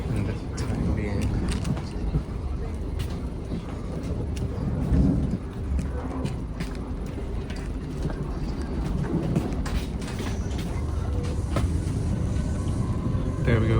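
A Thameslink train running on tracks joining the East Coast Main Line, with a steady rumble, rhythmic wheel clatter and rattling carriage noise, heard from inside under a person talking.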